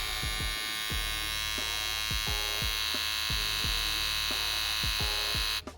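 A Kiepe Twice Finish electric foil shaver runs continuously up close, a steady bright buzzing hum with faint periodic ticks that stops abruptly near the end.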